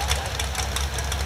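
Pulling tractor idling at an interstate pullers tractor pull at an ag center, a steady deep engine rumble with a knocking pulse, close and continuous with no talk.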